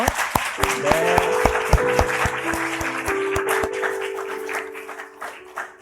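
A church congregation at a Sunday service gives a round of blessing applause, uneven and fairly close, with sharp separate claps over sustained musical tones before thinning out toward the end.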